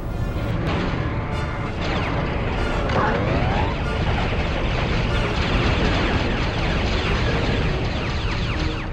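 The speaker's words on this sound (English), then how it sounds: "when you destroy the enemies on it, it's going to explode" A bridge blows up in the Star Wars: Clone Wars video game on PlayStation, a dense, sustained roar of explosions and crashing debris that stays loud for the whole stretch.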